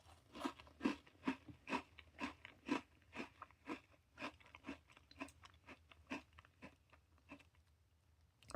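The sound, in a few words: crunching while eating a red velvet strawberry Oreo cookie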